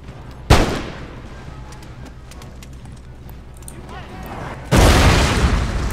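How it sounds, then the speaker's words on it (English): Howitzer artillery fire in the strategy game Empire: Total War, with two heavy booming blasts a few seconds apart over a continuous rumbling battle bed, the second followed by sustained roaring noise. "the howitzer comes in to cause lots of damage"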